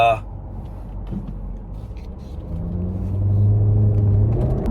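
Jaguar F-Type engine rumbles low and then climbs into a louder, rising rev near the end, with someone talking over it at first.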